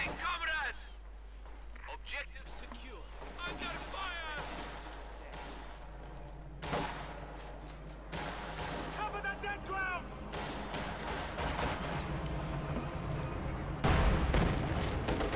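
Artillery and mortar fire in the World War II strategy game Company of Heroes 2, with repeated booms and gunfire crackle over game effects, while a commentator talks throughout.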